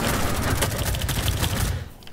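Rapid, dense gunfire fills a Rainbow Six Siege match, a continuous rattle of overlapping shots that stays loud for nearly two seconds and then drops away sharply.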